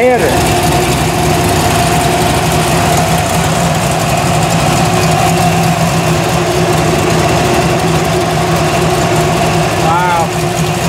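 Twin-turbocharged engine in a 1957 Chevrolet Bel Air four-door station wagon idling nearby, a steady loud rumbling drone that runs throughout with voices talking over it.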